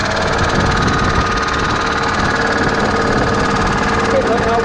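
A big old diesel rig engine idles steadily and loudly nearby at a bricklaying site, a constant rumbling drone with a faint voice or two underneath.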